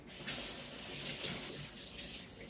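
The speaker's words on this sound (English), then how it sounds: "Now I'm gonna rinse it off again." Food being rinsed under a running kitchen tap for a plant-based dinner, a steady close rush of water splashing into the sink with no talk.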